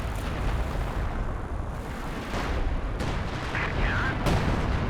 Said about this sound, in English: So the howitzers have been working really well so far this match.